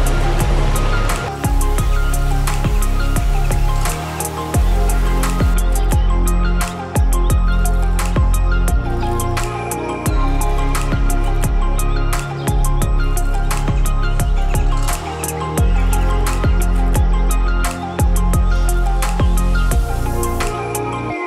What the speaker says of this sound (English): it just started coming down with rain